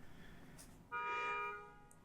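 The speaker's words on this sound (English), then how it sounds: "Sorry for the honk." A single car horn honk on a New York street, a sustained bright tone lasting about half a second over steady low traffic rumble, fairly clear against the background with no talk.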